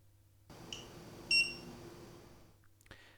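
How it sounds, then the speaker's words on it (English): An Avastor XD5 RAID unit gives a single short, high electronic beep at power on, with a quiet click or two before and after and faint background hum. "You'll see the lights flash and hear a single beep to let you know the power is on"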